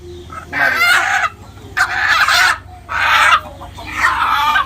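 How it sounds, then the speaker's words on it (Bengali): Egyptian Fayoumi chickens, an egg-laying breed, on a Bangladeshi farm, clucking and crowing loud and close in four separate bursts with short pauses between them. "এটা হচ্ছে মূলত ডিমের রানী মিশরীয় ফাউমি"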